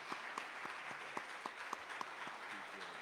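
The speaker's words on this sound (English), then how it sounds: "Give Mr. Rakim, the God MC, a round of applause." Sparse, faint scattered clapping from an audience at a library event with Rakim at the Hotel DuPont, a few distinct claps spaced out over a quiet room.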